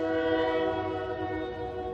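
Stadium train horn blasting after a home run at a Georgia vs Texas A&M college baseball game, a loud sustained multi-tone chord held steady for the whole stretch over crowd noise.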